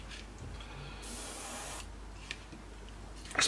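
Primer sprays from a can onto an Eduard 1/48 Spitfire scale model kit, a steady close hiss of under a second, followed by quieter faint hissing and a brief tap at the end.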